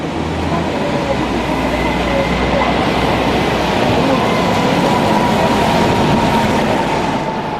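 An ALX400-bodied Dennis Trident London bus drives along Fleet Street amid city traffic, a continuous low engine rumble and road roar that holds steady and close throughout.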